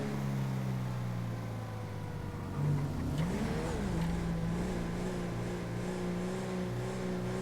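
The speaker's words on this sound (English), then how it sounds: "I heard a car." A car engine in a video game hums steadily, then revs and shifts pitch as the vehicle passes nearby, with the drone continuing afterward.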